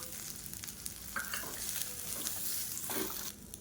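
Grated coconut, chana dal and curry leaves roast in a pan, giving a soft, steady sizzle broken by light scraping stirs, fairly faint and with no voices.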